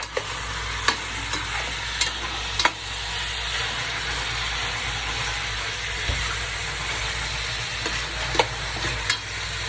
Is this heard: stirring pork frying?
yes